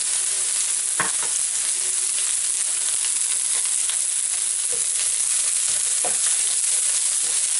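Garlic and ginger sizzle in hot oil while making mushroom Manchurian, a dense, continuous bright hiss close by, broken by a few scrapes and clacks of stirring.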